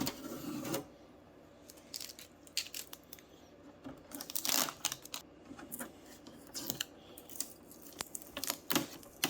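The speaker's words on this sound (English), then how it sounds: "Next, we're going to remove all the blue tape used for packing." Blue packing tape being peeled off an Epson EcoTank ET-2800 printer, irregular bursts of ripping, crinkling and plastic clicks, close and moderately loud, with short pauses between pulls.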